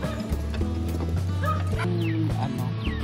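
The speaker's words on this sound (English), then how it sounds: "We got dogs waiting for us on the other side of the bridge." Several dogs bark and yip close by outdoors near a bridge in Albay, with rapid, overlapping barks and whimpers running through the whole stretch.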